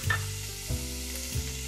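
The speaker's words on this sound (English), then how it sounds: "And then we're going to fry our bacon" Bacon fries in olive oil in a preheated pot for a beef and butternut casserole, a close, steady sizzle with soft knocks at regular intervals, with no speech.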